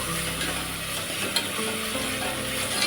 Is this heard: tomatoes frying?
yes